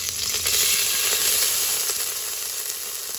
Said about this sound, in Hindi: तो हमने थोड़ा सा नीचे चावल डाल दिया है।